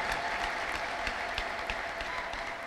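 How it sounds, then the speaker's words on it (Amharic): A congregation at a church service applauds, a fairly quiet but continuous wash of many hands clapping with some individual claps standing out, slightly distant and steady throughout. "አጨብጭቡ"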